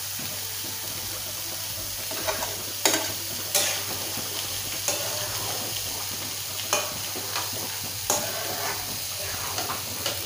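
Food fries in a pan with a continuous soft sizzle and a low steady hum, while occasional sharp scrapes and clinks of stirring rise above it at irregular intervals.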